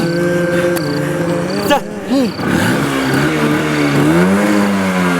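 A car engine hums and revs unevenly while the vehicle stays put, its drone running beneath excited talking voices.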